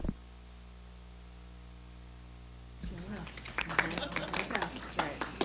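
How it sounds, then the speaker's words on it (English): A low electrical hum fills a quiet room at a board of education meeting, then scattered clapping from a modest crowd breaks out and continues for a few seconds. "Applause for everyone."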